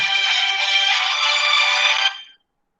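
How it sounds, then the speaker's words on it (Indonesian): A phone ringtone chimes loud and alone for about two seconds, then cuts off abruptly as the incoming call is silenced during a school orientation session. "Mohon maaf saya ada telepon ya, jadi saya matikan dulu ya"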